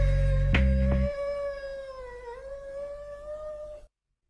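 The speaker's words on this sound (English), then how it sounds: "Cats howl mainly in territorial situations." A domestic cat lets out a long, drawn-out howl, close and clear, wavering slightly in pitch for several seconds over a low background rumble that cuts off before the sound ends.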